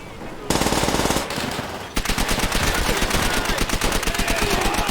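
Rapid automatic gunfire from the World War I video game Call of Duty WWI, a dense loud burst of machine-gun shots that stops briefly and resumes in fast, continuous rattling.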